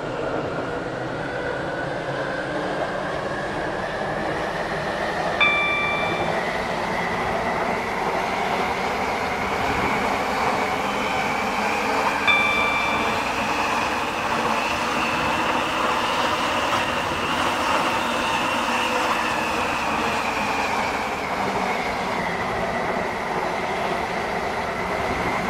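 A class 720 train in the Roblox game SCR rolls steadily along, with a continuous rumbling run and a rising and falling motor whine, plus two short chime-like tones along the way.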